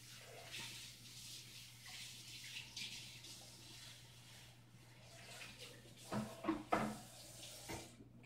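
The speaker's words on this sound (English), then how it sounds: "I'm going to rinse this out immediately so my family doesn't get into it accidentally." Water runs softly from a tap to rinse out a container during soap making, a faint steady wash broken near the end by a few brief clinks and knocks.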